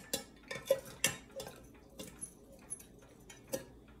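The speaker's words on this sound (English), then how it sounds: "Stir it properly for proper blending." A spoon stirs citrus iced tea in a glass, with light clinks and taps in an irregular rhythm, quiet and close.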